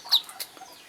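A hen co-raising ducklings gives a couple of short, close clucks within a second, alone without talk.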